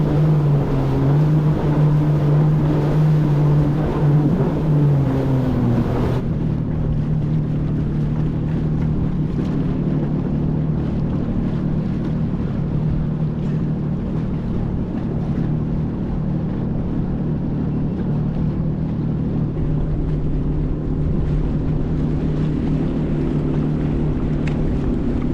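A Yamaha VX Cruiser personal watercraft runs on rough ocean swells with a loud, steady engine drone. Wind buffets the microphone, and the engine pitch shifts downward partway through.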